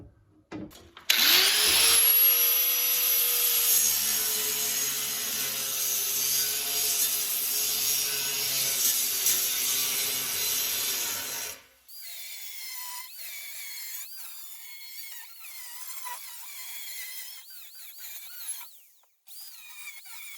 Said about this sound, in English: So I'm cutting this thing with a die grinder.